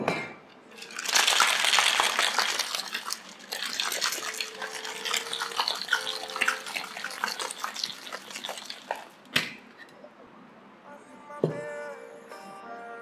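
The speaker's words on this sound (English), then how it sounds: "Take your shaker and give it a nice vigorous shake." A cocktail shaker is shaken hard at a bar in Anjuna, giving a long run of dense rattling ice over about nine seconds, loud and close, then a brief clink and quieter pouring near the end.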